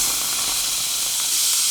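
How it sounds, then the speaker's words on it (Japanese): Finely chopped onions sizzle in a preheated pot with no oil, giving a steady, close, hissing sizzle with no talk over it. "しっかりとお鍋を温めたら、まずみじん切りの玉ねぎを入れていきます"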